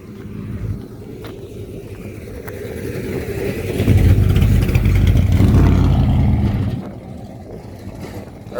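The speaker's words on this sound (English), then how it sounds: "I'm gonna wait for this truck to pass because it's very loud" A very loud truck rolls past a railroad crossing, its low engine rumble building, peaking close by for a few seconds, then fading as it moves off.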